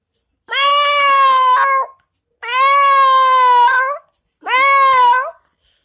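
A boy imitates a cat with three long, drawn-out, whiny meows, loud and close-up, separated by short silences.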